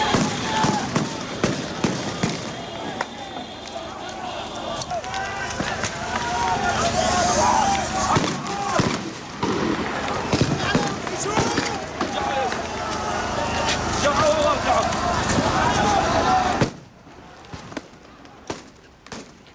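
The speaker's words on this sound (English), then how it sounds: "fired rubber bullets and tear gas" Police firing rubber bullets and tear gas at protesters in Bahrain, a chaotic stretch of sharp bangs and pops over crowd noise and shouting, with a loud sustained din that cuts off toward the end.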